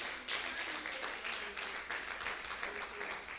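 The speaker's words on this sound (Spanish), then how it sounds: "Denle un aplauso al Señor" Congregation applause during a church sermon, many hands clapping steadily at fairly close range with a faint murmur of voices underneath.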